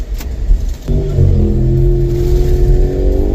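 A car engine revs up and holds a steady, rising drone close by while driving a rural road where dirt gives way to pavement and back; brief clatter precedes it.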